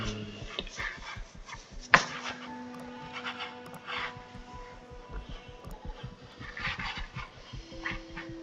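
A dog pants quickly and steadily at close range, with soft whimpers and a sharp click partway through, over faint background noise and no talking.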